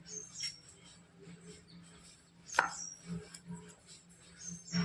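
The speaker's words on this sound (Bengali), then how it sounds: "পাতিলেবুটা এবার আমি অর্ধেক করে কেটে নেব।" A knife cuts a lime in half on a cutting board, giving a few soft, quiet taps and one sharper thunk, with faint scraping and handling noises around them.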